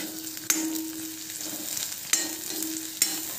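Chopped brinjal frying in hot coconut oil, a steady close sizzle with spoon stirs and three sharp clinks against the pan, no voices.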